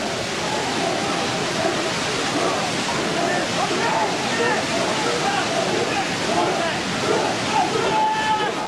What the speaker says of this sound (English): the whole scene echoing with the sound of the waterfall and the chants of Kyoku Shinkai